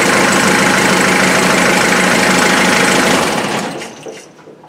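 A Land Rover Defender's 2.5 litre naturally aspirated diesel idles close by with a loud, steady clattering rumble, then is switched off and fades away over the last second or so.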